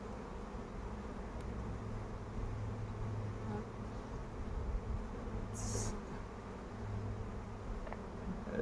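A dense, steady buzz of many honeybees in a two-storey hive hums continuously, with a low drone throughout and a faint brief hiss partway through.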